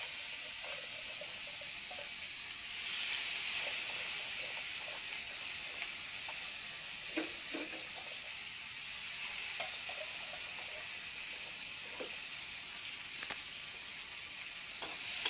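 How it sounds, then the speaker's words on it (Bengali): Onion pieces sizzle in hot oil in a pan, a steady close frying hiss with faint crackles and occasional pops throughout, no voices. "এবার আমি পেঁয়াজ দিয়ে দেবো এই তেলেতে"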